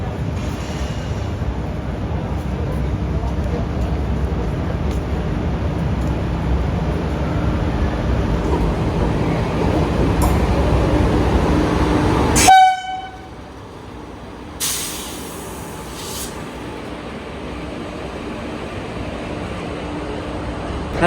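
The Khajuraho express, hauled by a WAP4 electric locomotive, rumbles past loudly and steadily at close range, then a sharp horn blast cuts in and the train noise abruptly falls away, followed by a fainter, shorter toot.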